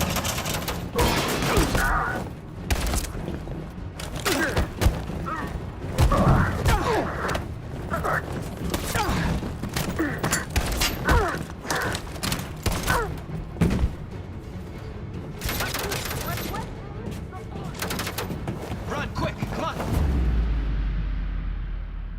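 Sustained volleys of gunfire in Detroit: Become Human, dense bursts and heavy thuds rolling continuously for about twenty seconds, loud and close, with occasional shouted voices buried in the chaos before it drops to a low rumble at the end.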